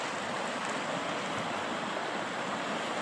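Continuous rushing water, a steady broad hiss like a creek flowing nearby along the Upper Rogue River Trail, unbroken and even throughout.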